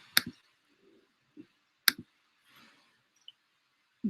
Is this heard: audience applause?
no